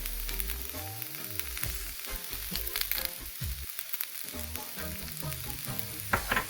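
Vegetables, likely cabbage, sautéing in a pan seasoned with salt and garlic powder, a steady close sizzle and crackle with faint stirring and no voices.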